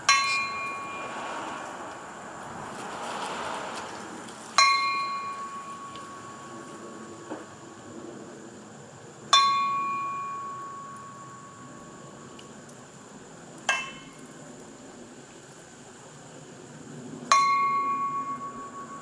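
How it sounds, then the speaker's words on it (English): A single memorial bell tolls at an outdoor American Legion post centennial ceremony, struck five times at roughly even intervals, each clear metallic strike ringing and decaying over a quiet background with no talk. "Dot Bazone is going to toll a bell for 4 or 5 times, every 10 seconds if you would."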